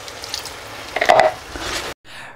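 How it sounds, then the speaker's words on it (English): A short splash of water poured into a pan of tomatoes, onions, ginger and garlic for achari chicken. There is a quick liquid pour and sizzle that stops abruptly, then faint kitchen background. "I'm just going to add a splash of water as well"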